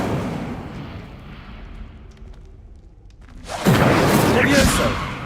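An Incendio fire spell is cast in the video game Hogwarts Legacy, heard as a loud whooshing roar of flame that bursts in suddenly after a rumbling lead-in and stays strong to the end.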